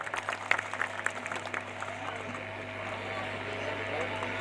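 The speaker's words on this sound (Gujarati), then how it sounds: "એ સ્વાગત સન્માન થાય ત્યારે આપણે તાળીઓથી વધાવી." An audience at a community mass wedding gathering claps to welcome an honoree, a scattered burst of clapping at the start that fades into a low, steady hum of a large venue.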